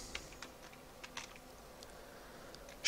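Typing on a computer keyboard while entering a registry value in Windows 10, soft scattered key taps at a quiet level with gaps between them and a louder knock at the very end.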